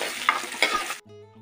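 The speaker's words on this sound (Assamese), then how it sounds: "এতিয়া শাকখিনি ভাজি লওঁ" Leafy greens fry in a hot pan, giving a loud, dense sizzle with a couple of stir clatters for about a second before it cuts off to a quieter steady hum.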